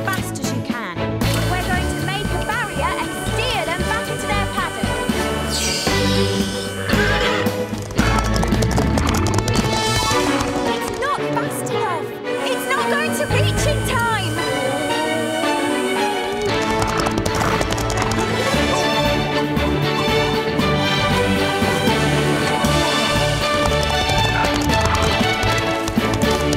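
Cartoon horses gallop with loud, steady clip-clop hoofbeats and repeated whinnies, set against a busy animated soundtrack with music running throughout.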